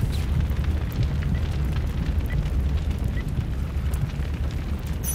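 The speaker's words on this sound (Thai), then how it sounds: "ดูเหมือนกับ EMP ระเบิด" EMP blast in the Crysis Warhead video game: a dense, steady low-frequency roar with crackling bursts that holds loud and constant for the whole stretch, with no talk over it.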